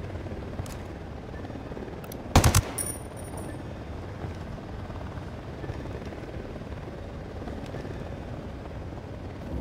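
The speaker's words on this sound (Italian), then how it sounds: "Arriva un elicottero." In the shooter Ghost Recon Wildlands a helicopter drones steadily in the background, joined at one point by a brief, loud burst of gunfire with a few trailing shots, while the rotor hum continues alone.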